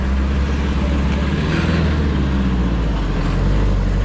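Heard from a bicycle, a lorry rumbles past on the road with heavy, continuous low engine and tire noise, close and loud, surrounded by traffic.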